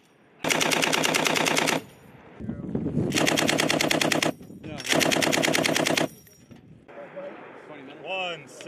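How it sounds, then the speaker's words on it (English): Heavy machine gun fire during a U.S. Marines training exercise, three long loud sustained bursts separated by short pauses, with shouted voices between and after them. "You guys are starting to receive that heavy machine gun fire coming."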